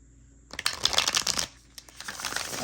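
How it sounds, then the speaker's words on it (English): Close, crisp riffle of tarot cards being shuffled, a rapid flurry of flicking snaps followed by a softer second riffle. "Let's see how these shuffle."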